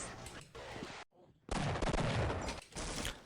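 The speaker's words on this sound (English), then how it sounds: "now that we heard the sound of a tow cannon going off" A TOW cannon fires in the video game Half-Life, giving loud, dense gunfire-like blasts with a brief silent gap, then a heavy sustained boom and rumble filling the rest.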